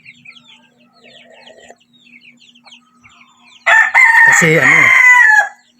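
Rhode Island Red chickens cluck and chirp softly, then a rooster lets out one loud, close, drawn-out crow lasting nearly two seconds; a brief spoken word comes just before.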